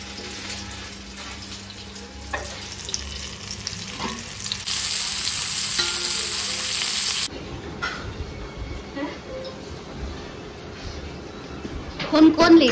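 Fish fries in oil with crackling sizzle, joined midway by a burst of running tap water, while people talk over the cooking at close range.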